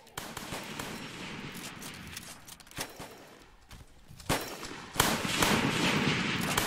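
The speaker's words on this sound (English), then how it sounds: "Oh, okay, everyone fire at will." Musket volleys in a video game battle, dense crackling gunfire with scattered sharp shots and a few louder bursts, continuous and fairly close throughout a training and patrol engagement with artillery.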